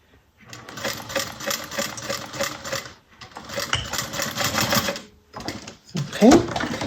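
A sewing machine stitches fabric close by, running in steady rapid bursts with short pauses between runs. A brief rattle comes near the end.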